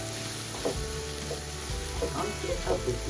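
Tomatoes and onions with salt sauté in a pan, giving a steady sizzle with soft stirring scrapes, heard fairly close.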